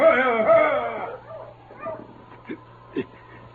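Sled dogs in a Yukon setting yelp and bark, starting with a loud whimpering, howling cry followed by a few sharper single barks, with a steady low hum underneath and voices nearby.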